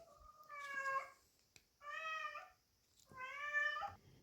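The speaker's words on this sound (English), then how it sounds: "I had to let the kitty back out and put its leash back on its harness" A cat meows three times close by, each call drawn out and tonal, with short quiet pauses between them.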